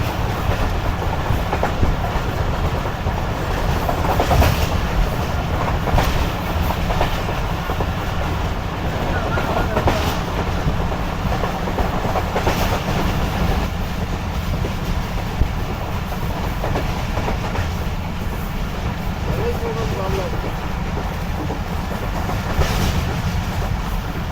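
Shalimar Express running on rails behind the locomotive, a steady broadband rumble with faint rhythmic clatter throughout, close and continuous, with occasional brief knocks rising above the drone.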